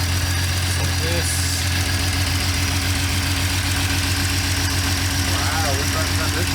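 A Jeep Cherokee engine idling after sitting unused for over a decade, a steady mid-pitched rumble with a faint knocking vibration, close and continuous, with people talking over it.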